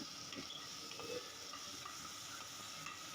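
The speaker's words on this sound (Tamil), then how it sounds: "தக்காளி, பச்சை மிளகாய், கருவேப்பிலை, புதினா இது எல்லாத்தையும் சேர்த்து வதக்கிக்கிறேன்." Chopped tomato, green chili, curry leaves and mint sauté in a pan for pepper mutton, giving a faint, steady sizzle with a few soft stirring sounds and no voices.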